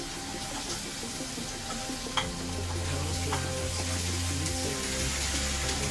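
Flat beans and potato are fried and stirred with spices in a pan, a steady close sizzle running throughout with a spatula scraping and knocking through it, a low hum underneath.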